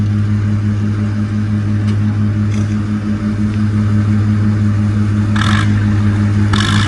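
An Oliver tractor at a tractor pull holds a steady, loud engine hum with a strong low drone throughout, plus brief higher hissy bursts near the end; no talk.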